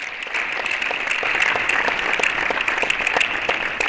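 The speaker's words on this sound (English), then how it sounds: "Please give them a round of applause." Sustained applause from the crowd at an indoor women's college team tennis championship, steady dense clapping throughout with no speech over it.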